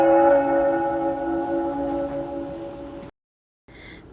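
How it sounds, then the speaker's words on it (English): A single bell rings out close and loud, its sustained tones humming for about three seconds before cutting off, followed by a faint brief ring. "The bell rang. It sounded close, loud, like it was waiting for something."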